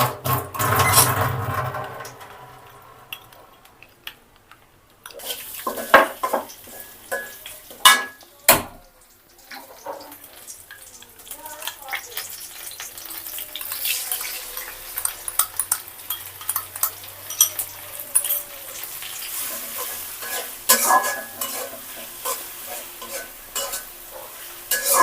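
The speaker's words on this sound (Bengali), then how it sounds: "মশলাটা কিছুক্ষণ কষিয়ে নিব" Spice masala with cumin and coriander leaves is stir-fried in a pan, with a constant sizzle under busy, irregular scraping and clinking of a spoon against the pan, close and fairly loud throughout.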